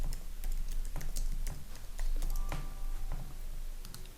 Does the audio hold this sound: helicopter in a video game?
no